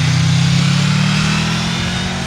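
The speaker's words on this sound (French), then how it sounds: "Les accélérations deviennent plus nerveuses, le tout accompagné par un sifflement de la boîte à air bien sympa." A Honda Crossrunner 1200 V4 motorcycle accelerates hard and close up, its steady engine drone carrying a faint airbox whistle, running loud and alone before easing off slightly.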